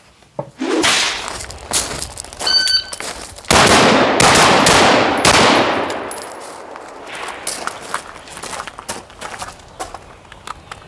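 Rapid gunfire from a Steyr AUG-A3 rifle on a shooting range, a series of loud sharp reports in quick bursts, then sparse shots trailing off with ringing echoes.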